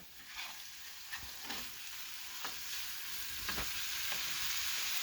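Food frying in a pan sizzles softly while a spoon stirs it in several separate scraping sweeps, each stroke a brief rise over the steady low hiss.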